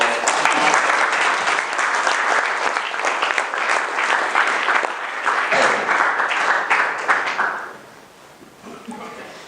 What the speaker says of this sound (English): Let's give a large round of applause.